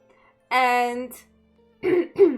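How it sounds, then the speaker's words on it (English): A person with a lingering cough clears their throat with a short voiced rasp, then gives two quick, close, harsh coughs; loud and alone. "My cough came back, which is bad."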